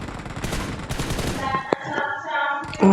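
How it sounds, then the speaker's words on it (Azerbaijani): Rapid bursts of gunfire in PUBG Mobile crackle in quick succession, followed by a single sharp shot and scattered electronic effects. "Mən buna bu qədər güllə sıxıram"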